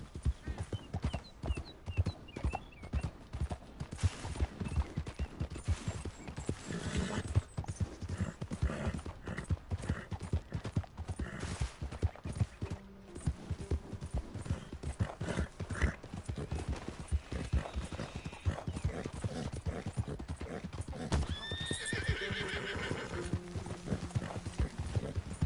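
Steady clip-clopping of horse hooves in the Red Dead Redemption 2 video game continues throughout, with an occasional whinny and faint game ambience and voices underneath.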